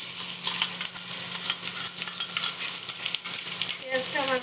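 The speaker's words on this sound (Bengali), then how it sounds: "তেলটা গরম হয়ে গেছে, এর মধ্যে কুচনো পেঁয়াজটা দিয়ে দেবো।" Two chopped onions hit hot mustard oil and sizzle loudly and steadily up close, a dense continuous crackle with no talking.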